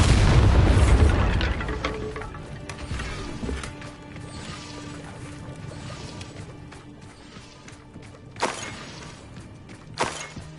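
A Bombarda spell blast in the game Hogwarts Legacy bursts loudly at the start and fades into a long rumbling decay. Two sharp crashing hits come later, near eight and ten seconds.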